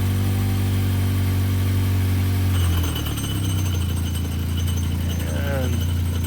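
A 2014 Mazda 6 at a police auction, running on a jump box just after starting: a steady idling engine hum that shifts and roughens partway through, with people talking nearby over it.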